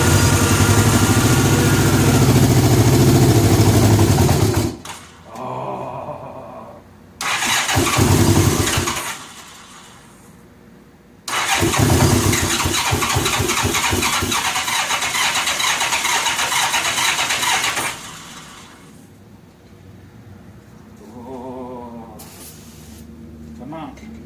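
A 1985 Honda Gold Wing GL1200 Aspencade motorcycle that sat 28 years in a barn cranks and catches in loud, rough bursts, with pauses between attempts, under excited talk.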